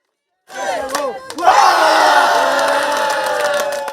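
Supporters at a Ugandan soft-ground wrestling match cheering as the announced wrestlers come out, a loud crowd roar with shouts and whoops that swells after a second and stays loud to the end.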